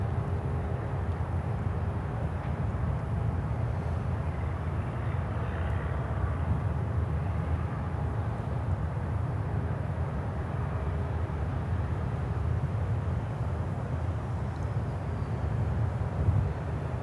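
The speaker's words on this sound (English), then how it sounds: "And Avianca started taxiing, Avianca Cargo 330." An Avianca Cargo Airbus A330 taxis at Miami's airport, a steady, distant low engine rumble that holds evenly throughout with no talking.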